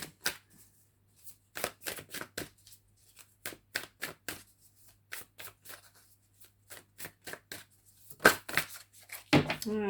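Tarot cards shuffled by hand in sharp, irregular riffling bursts, close and fairly quiet, ending in a quicker flurry of card slaps with no voices.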